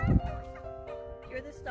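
Farm turkeys gobbling and chattering, with a loud burst at the start followed by lower warbling calls, close by on a rainy day.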